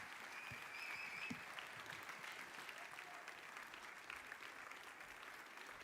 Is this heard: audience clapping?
yes